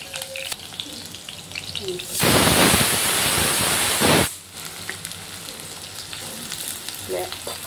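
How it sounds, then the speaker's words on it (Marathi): Green chillies and onion hit a hot pan with a loud, sudden sizzle that holds steady for about two seconds and then drops away, with quieter kitchen background before and after. "आता मिरची टाकणार आहोत, मिरची छान अशी फ्राय करून घेणार आहे।"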